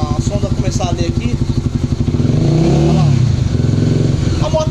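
Honda CB 300 motorcycle engine fitted with a reworked throttle body, chugging in a rapid, even idle pulse and then revving louder, close by, with speech over parts of it.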